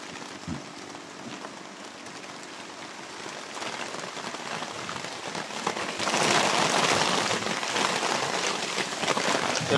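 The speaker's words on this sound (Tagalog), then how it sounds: "dahil malakas ang ulan" Heavy rain pours steadily, a dense hiss that swells louder midway and stays intense to the end, with no voices.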